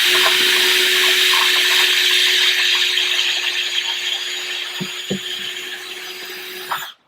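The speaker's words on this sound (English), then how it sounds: "I'm going to use a drill bit I've already selected and just drill a hole through it" A power drill whirs steadily through wood for several seconds, its pitch sagging slightly as the bit bites, then cuts off abruptly near the end.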